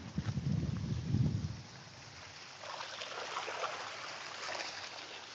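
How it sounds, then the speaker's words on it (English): A small stream flows on a walk down into Sada, Galicia, heard as a soft, steady trickle and wash of water, with some heavier rumbling at the start. "It's a little stream."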